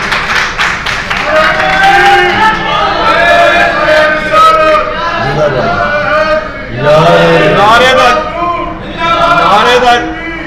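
At a political rally on Saraiki Culture Day, a crowd chants slogans in loud, rhythmic bursts of many voices, with pauses between the phrases and some clapping mixed in.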